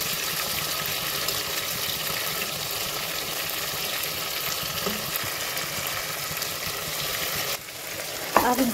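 Capsicum fries in a pan for tomato chutney with a steady, close, crackling sizzle that stays even throughout, dips briefly near the end, and then a few stirring clatters follow.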